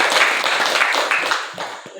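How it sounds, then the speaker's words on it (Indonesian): Clapping from a classroom audience during a teaching session, a dense burst of applause that gradually thins and fades out over about two seconds. "Oke, berikan tepuk tangan dulu."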